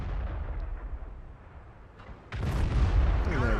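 A tank cannon fires in the World of Tanks video game: one loud booming blast with a rumbling tail, preceded by a quieter stretch of engine and ambient game noise.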